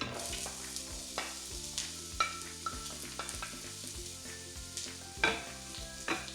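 Onions frying in oil in a pot, a soft, faint continuous sizzle with occasional light stirring clicks and taps, no voices.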